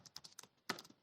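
Quick taps on a computer keyboard, a short run of light clicks followed by a firmer press, close and faint, as shift and enter are struck.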